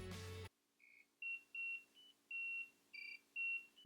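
After a short burst of noise, a PebbleBee Honey item tracker emits a series of short, high electronic beeps in an uneven rhythm, clear and close in quiet surroundings.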